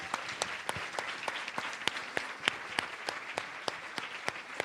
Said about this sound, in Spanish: Un aplauso más grande para el Benja Walker también y el profesor Fernando Atria.